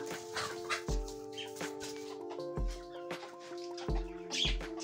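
Chickens cluck and chirp close by while pecking at scattered grain, a busy stream of short calls over a steady tonal background hum.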